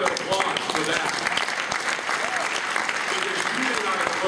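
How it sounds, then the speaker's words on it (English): Audience applause at the RightOnline 2012 conference, a steady broad patter of many hands clapping through the whole stretch, fairly close and even, with some overlapping voices mixed in. "Give yourselves a round of applause for that."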